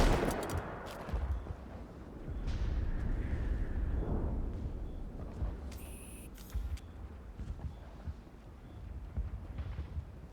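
A grenade blast in the video game Mass Effect rumbles low and heavy, followed by scattered bursts and crackling over a noisy, dense backdrop, with brief higher-pitched effects in the middle.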